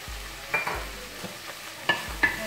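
Spoon stirring mushroom biryani masala, with turmeric and biryani masala powder, in a pan: a few scraping strokes over a soft sizzle, with quiet gaps between them.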